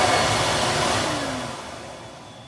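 A Hoover Portapower S1248 portable vacuum cleaner runs with a loud, close, steady airy whine that slowly fades toward the end; no talk.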